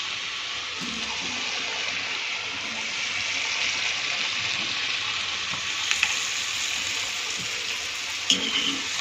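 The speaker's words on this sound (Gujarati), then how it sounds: "આપણે અત્યારે આને હલાવીશું નહીં, થોડી અંદર ફ્રાય થાય પછી આપણે આને ધીમે ધીમે પલટાવીશું" Potato fries sizzling in oil, a continuous dense frying hiss at steady loudness with a few faint bubbling pops and clinks, no talk.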